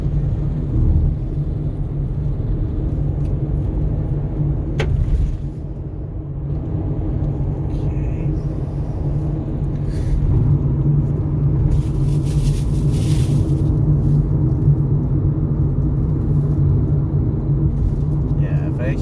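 Inside a 2024 Mazda 2 C hatchback with a 1.3 petrol engine, a steady low road rumble and tire drone persists while someone talks over it, with the noise swelling slightly partway through.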